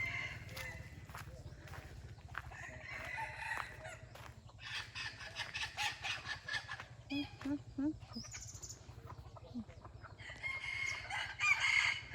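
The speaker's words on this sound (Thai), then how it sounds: "ไก่แจ๋ไก่ป่า" Jungle fowl at a pond in the countryside crow and cluck, with repeated rooster calls and softer clucks over a steady low hum, near and moderately loud.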